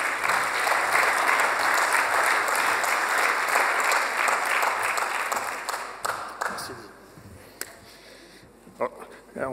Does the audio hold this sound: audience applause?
yes